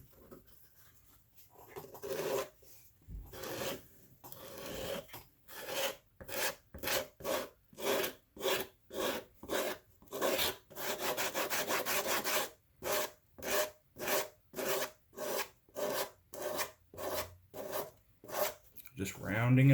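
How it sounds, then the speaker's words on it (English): Sandpaper rasping back and forth over the edges of a leather journal cover, a long run of steady rhythmic strokes, close and clear, with no talking. "Now I'm just going to hit these up with that sandpaper."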